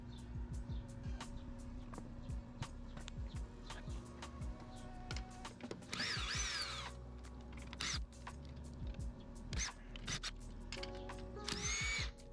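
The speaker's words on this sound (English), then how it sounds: "I'm using this 1/2-inch impact to take the lugs all the way off." A 1/2-inch impact wrench removes lug nuts from a C3 Corvette wheel in a garage, sounding as several short, bright bursts around the middle and near the end over a low background hum.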